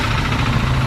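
A car engine running steadily at low revs during a driving lesson, a constant mid-low hum with slight vibration and no clear speech.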